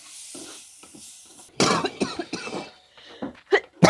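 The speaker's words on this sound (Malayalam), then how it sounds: "പൊടികൾ മൂത്തു എന്നുള്ളതിന്റെ തെളിവാണ് ഈ ചുമ" Someone coughs hard in a series of harsh bursts, choked by the fumes of chili and coriander powders roasting in a pan during village-style vegetarian cooking. The bursts come after a quiet stretch with faint kitchen sounds, and they are loud and close.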